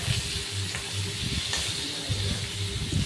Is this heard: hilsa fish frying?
yes